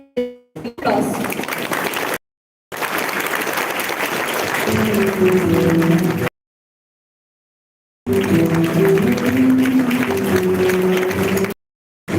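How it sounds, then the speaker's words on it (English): Students at an engineering college inaugural function give a loud standing ovation, sustained applause filling the hall in several long bursts separated by abrupt silences. "I request all the students standing ovation for applause."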